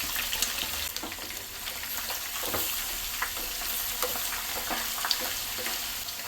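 Cashews, green chillies, curry leaves and grated carrot fry in hot oil as a tempering for tamarind pulihora, giving a steady soft sizzle with scattered crackles and pops, fairly quiet and close.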